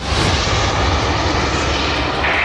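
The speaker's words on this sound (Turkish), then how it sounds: "Hedef uçak havalandı, adım 37 uygun." A target aircraft takes off during a live-fire air defence missile test. Its engine roars loudly and continuously, close and unbroken, with no talk over it.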